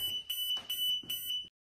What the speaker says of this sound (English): The unit will alarm when it detects radiation levels at 1 microcurie.